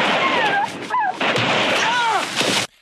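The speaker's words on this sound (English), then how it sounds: "We get a couple of gunshots and a couple of dogs yelping and then silence." Gunfire mixed with dogs yelping in a film battle scene from First Blood: loud, dense bursts with rising and falling yelps layered over them, then an abrupt cut to near silence at the end.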